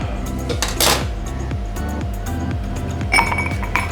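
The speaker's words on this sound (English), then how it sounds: "we're going to serve this over a nice large ice cube." A large ice cube drops into a cocktail glass for an Aperol Negroni, a bright clink and settling rattle followed by a rhythmic series of low glassy knocks and a later chime, close and with no talk.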